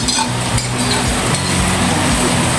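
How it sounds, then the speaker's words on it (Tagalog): Spaghetti and chopped hotdog are stirred in a frying pan with a little oil, making a loud, continuous sizzle with scraping and faint clinks of the utensil against the pan. "Halo-haloin lang natin to guys."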